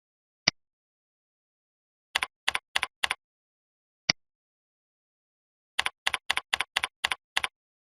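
Computer keyboard typing while logging into a New York State online business account, with two isolated keystrokes and then two quick bursts of clicky keypresses in an otherwise silent room.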